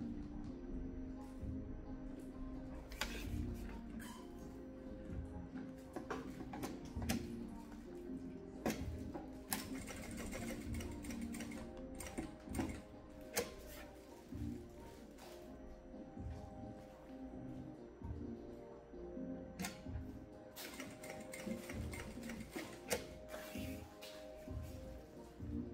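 A sewing machine stitches a zipper pouch made of Ipanema 1.8 synthetic material, running in steady rattling bursts with brief pauses as the seam turns a corner, close by with no talk.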